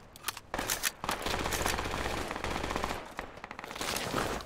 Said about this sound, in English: they're shooting us point blank at me